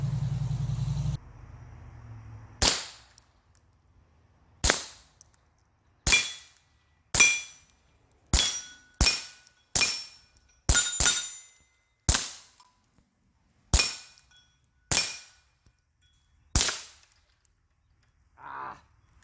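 Sharp, loud shots from a Taurus TX22 .22 pistol crack out one at a time at an outdoor range, about fourteen in all with short irregular gaps between them. Each report rings briefly as the rounds strike targets.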